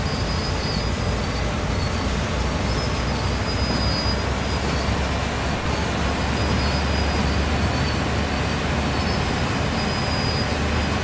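A continuous, steady rumble of a Train Sim World 4 train in motion, with broadband clatter and a faint high squeal running throughout.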